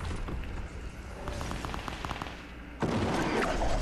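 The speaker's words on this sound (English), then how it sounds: "All they're doing is shooting me." Bursts of video game gunfire rattle in rapid volleys at moderate distance, ending in a louder, dense crackling barrage during the last second.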